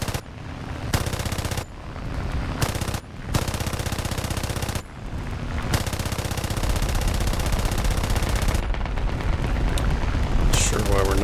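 Aircraft machine guns rattle in long continuous bursts during a War Thunder air arcade battle flown in a Gladiator Mk I, broken by a few short pauses, loud and dense over steady engine drone.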